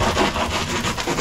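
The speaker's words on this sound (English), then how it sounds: "My plan is just to keep on sawing away and just take off as many layers as possible" A saw grinding back and forth through layers of cardboard, a steady close rasping stroke that runs continuously without pause.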